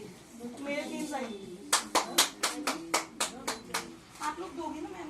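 Hand clapping from the audience at a Chandigarh women's award ceremony comes in a quick burst of about a dozen sharp claps, near and fairly loud. Talk sits before and after the claps.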